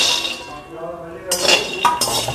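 Peanuts roasting while stirred with a utensil in a metal kadhai: near scraping with bright metallic clinks, loudest in a few quick strokes near the end.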